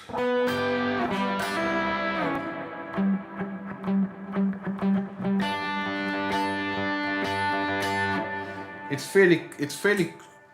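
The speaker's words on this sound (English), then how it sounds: "It's obviously overdriven," An overdriven electric guitar plays sustained chords and single notes with a gritty, moderately distorted edge, loud and steady with brief gaps between phrases.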